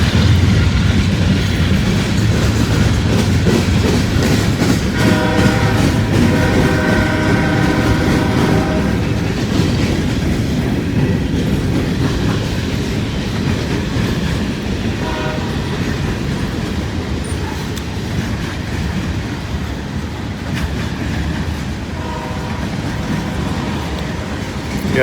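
A smoky GE diesel locomotive rumbles past at close range, engine droning and wheels clattering along the rails, with a horn tone sounding partway through.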